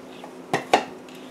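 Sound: mixing soy sauce mixture in a bowl

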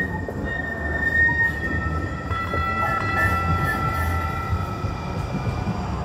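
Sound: light rail train passing by

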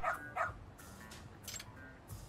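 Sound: dog barking in video game Lost Judgment

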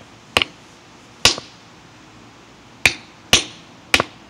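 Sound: rock hammer cracking open a geode

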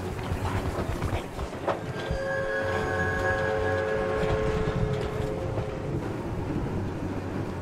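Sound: monster train chasing the player in video game Choo-Choo Charles

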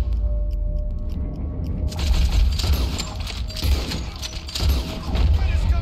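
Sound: gunfire in video game Red Dead Redemption 2

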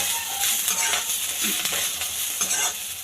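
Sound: coriander stems frying in a pan

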